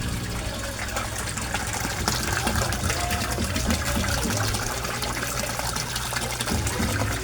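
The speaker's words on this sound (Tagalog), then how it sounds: "I-on natin yung aerator natin. Aerator ko guys." An aquarium aerator air pump runs in a koi fish tank, giving a steady, loud bubbling and gushing of water that fills the whole stretch without pause.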